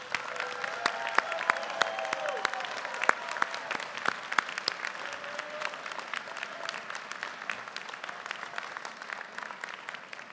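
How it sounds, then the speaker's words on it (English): Sustained applause from the audience at a university fall commencement ceremony for engineering and natural sciences graduates, a steady wash of many hands clapping in a large hall, even and moderately loud throughout with occasional sharper claps standing out. "join me in a round of applause for your families and friends and those here this morning"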